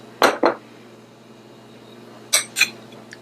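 A spoon mixing a brown sugar facial scrub in a bowl, heard as two pairs of sharp close clinks separated by a quiet pause.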